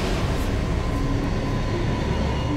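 A train rolls past near Sochi with a loud, steady rumble and broad rushing noise that holds throughout, with faint metallic tones riding on top.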